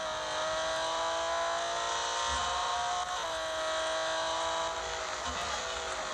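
A Lamborghini in the video game Real Racing 3 gives off a steady, buzzing, tonal engine whine that holds nearly flat with small shifts in pitch, fairly quiet and alone.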